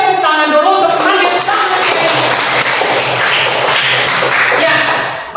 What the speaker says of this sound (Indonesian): tepuk tangan dulu untuk Maria